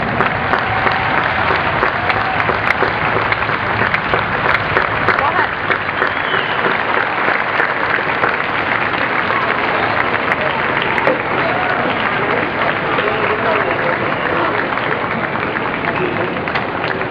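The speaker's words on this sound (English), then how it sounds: "Come on, let's applaud." A crowd at a Chicago museum Christmas event applauds volunteers with loud, dense clapping that runs steadily throughout, close and sustained with no break.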